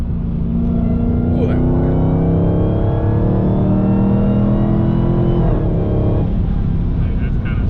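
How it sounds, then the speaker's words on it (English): A Dodge Hellcat roars at sustained high revs during a burnout, a loud steady engine drone with shifting pitch running the whole time, while a person speaks briefly over it. "Hellcats. They're really good for burnouts because they give you so much power down low."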